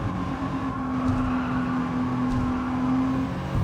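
A race car engine in Gran Turismo 7 drones steadily at high, sustained revs with a constant tonal whine, loud and continuous throughout with no speech.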